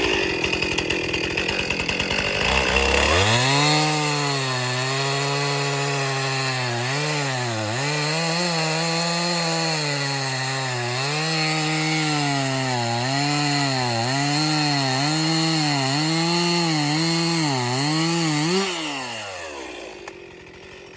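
A chainsaw cuts through a log to make firewood lengths. It runs close and loud for about eighteen seconds, and its engine pitch dips and recovers repeatedly as it bites into the wood before it winds down, with no talking.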